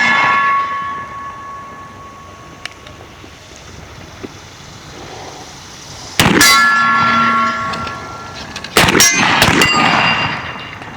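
Rifles fire at steel silhouette targets 100 yards out, a few sharp loud cracks with ringing metallic clangs from the steel, spaced apart over quiet range background.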